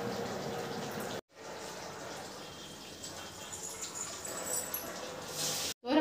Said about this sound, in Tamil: இப்போ நம்ம சோறை வடிச்சிடலாம்